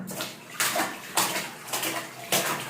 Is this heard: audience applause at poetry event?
no